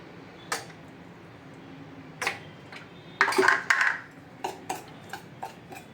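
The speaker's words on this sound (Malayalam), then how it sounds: "വെളിച്ചെണ്ണ ചേർത്ത് നന്നായിട്ട് മിക്സ് ചെയ്തെടുക്കുക" Spice powders being mixed into coconut oil in a bowl for chicken chukka, with a spoon scraping and clinking against the bowl in scattered, uneven taps and a short grinding stir.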